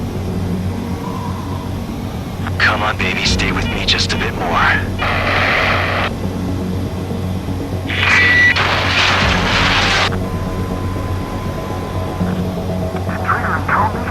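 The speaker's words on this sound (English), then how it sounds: "Attempting to land. I don't think my plane will make it." A fighter jet's engine roars during a landing attempt in Ace Combat 7, with bursts of rushing noise and booms layered under a spoken voice line.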